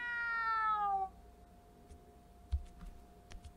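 A cat meows once in the video game Tie-dye Kuruguru, a clear, falling cry lasting about a second, followed by near silence with a few faint clicks.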